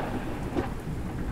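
Steady rain in a thunderstorm, a dense even hiss with a low rumble underneath, continuous and fairly loud for the whole moment, with no voices.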